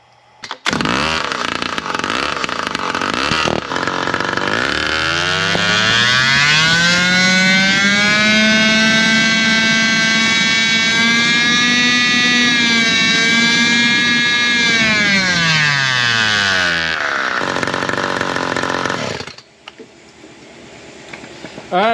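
A high-revving chainsaw fitted with a 24-inch bar and chain runs on a dyno, its loud, close whine climbing and holding a strained pitch for roughly twelve seconds before cutting off sharply.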